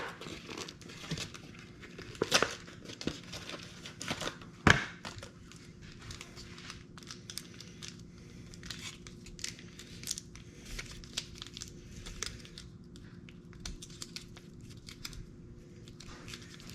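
Crinkly foil wrapping being peeled and torn off a block of cream cheese in a home kitchen, with intermittent crackling and a few sharper rustles throughout.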